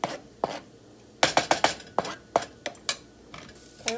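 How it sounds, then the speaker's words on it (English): A spoon scraping and knocking in a pan while stirring browning rice with onion, garlic and cumin seasoning, a series of sharp, close clinks and scrapes in irregular bursts with quiet gaps between. "Okay, we're just going to mix it in."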